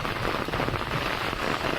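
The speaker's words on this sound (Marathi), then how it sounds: "हिंगोली जिल्ह्यामध्ये पुन्हा एकदा पावसाने जोरदार हजेरी लावलेली आहे" Heavy, cloudburst-like monsoon rain pours steadily in Hingoli district, Maharashtra, a dense continuous hiss of drops drumming on surfaces, loud and close throughout with no voices.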